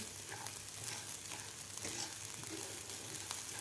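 Broken wheat dalia roasts dry in a pan, giving a soft, continuous crackling sizzle with faint scraping, steady and fairly quiet, with no voices.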